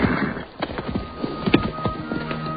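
Horses in a movie scene clop along with a steady rhythmic beat of hooves, up close and fairly loud, with a brief whinny or snort mixed into the busy scene.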